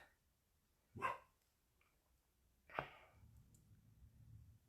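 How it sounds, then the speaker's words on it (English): A dog gives two sharp barks a couple of seconds apart, faint and somewhat distant, in an otherwise quiet room. "you might hear some hysterical barking in a minute"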